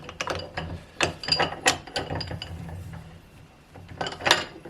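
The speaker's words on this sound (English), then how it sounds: "what we want to do is press the end eye into the stop washer" A small Harbor Freight arbor press pressing an end eye into a stop washer on an Ohlins TTX36 shock gives a run of sharp metallic ratcheting clicks and clanks, close and distinct, with a quieter gap before a final cluster.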